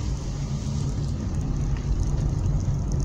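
A motorcycle engine droning close by on a rural road, a rough low-pitched rumble that stays steady and fairly loud throughout, with no talking.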